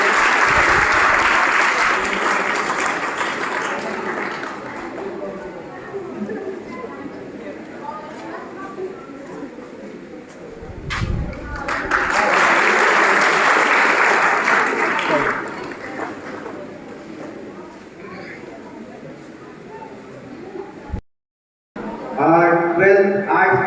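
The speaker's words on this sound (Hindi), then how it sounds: "जोरदार तालियां।" Loud applause from an audience at an annual students' felicitation ceremony at a coaching centre in Chanpat comes in two long bursts, with a presenter speaking in the quieter stretches between them.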